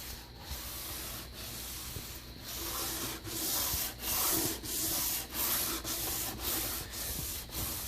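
Rhythmic hand rubbing of a polyurethane wood finish with pumice, strokes going back and forth along the grain in a steady, repeated scrubbing pattern, close and moderately loud, with no voices.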